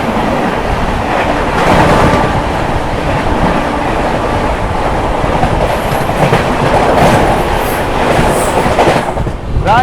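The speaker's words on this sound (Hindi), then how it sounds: "सामने से आ रही है रांची से चलकर पटना की ओर जाने वाली जन शताब्दी" The Ranchi–Patna Jan Shatabdi Express rolls past close by, loud rhythmic clickety-clack of wheels over rail joints with a rushing roar and faint squeals, no talking.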